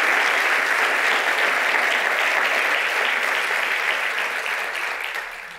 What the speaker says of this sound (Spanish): Dale un aplauso a Dios